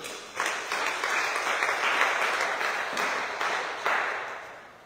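A church congregation breaks into sustained, dense applause acclaiming the Lord, many hands clapping together at a steady level for several seconds with a slight swell near the end.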